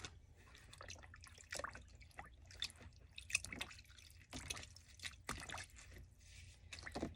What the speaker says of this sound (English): Now I'm going to let this drip a second